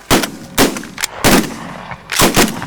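Shotguns fired while hunting waterfowl on the Canadian prairie, five or six loud close blasts in quick irregular succession, some overlapping, with no voices.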